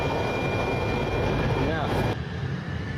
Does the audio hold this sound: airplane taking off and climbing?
yes